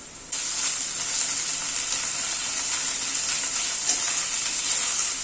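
Onion, garlic, green chilli and ginger paste fry in a pan, a bright, steady sizzle that starts abruptly and crackles on continuously, close and fairly loud.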